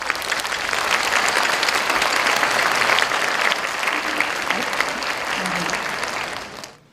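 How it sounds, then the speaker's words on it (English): An audience at an international conference in Jeju, South Korea, breaks into sustained, dense applause that holds steady before fading out at the end. "Please welcome him with your warmest applause."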